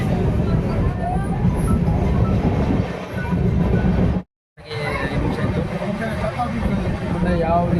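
A Gol Gumbaz Express passenger train rumbles along on its Solapur to Mysore run, a loud steady rolling roar with faint clatter heard from inside a carriage and a sudden brief dropout midway.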